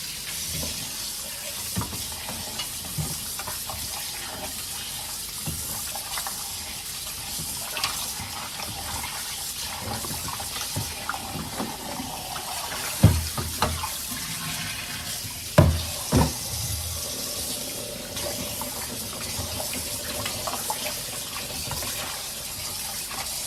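Tap water runs steadily over meat being washed, a continuous splashing hiss with occasional louder knocks and clunks from handling, and no talk.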